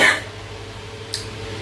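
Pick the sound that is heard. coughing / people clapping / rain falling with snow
coughing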